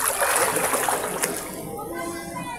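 People splashing while bathing in a spring-water resort pool in Antipolo, a burst of lively splashes and sloshing water up front that settles into softer trickling, with faint voices in the background.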